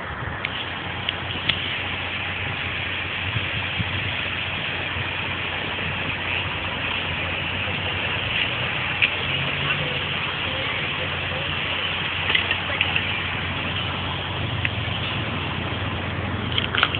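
A New York fire department engine, number 260 or 262, idles steadily nearby with a constant low rumble throughout, while people talk over it.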